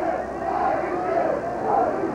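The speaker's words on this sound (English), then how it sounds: "With the rain coming down and the game in hand, they are still here cheering their team on." Penn students cheer in the rain at a football game against Harvard, a steady, distant crowd roar with swelling shouts under a commentator's voice.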